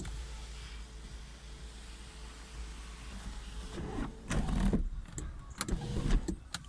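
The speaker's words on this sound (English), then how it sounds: "Okay, so we'll just close the sunroof." Electric sunroof on a 2003 Mercedes-Benz CLK500 closing with a low motor whir over steady engine idle, followed by a few sharp clicks and clunks as the panel seals shut.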